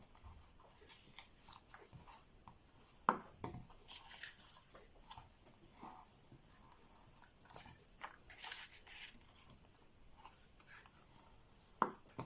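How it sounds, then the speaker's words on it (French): Fold lines being scored into printed paper for a small Easter box: quiet, close scraping and rubbing strokes in short, irregular bursts, with a few sharper ticks and no voices. "je viens marquer tous mes plis."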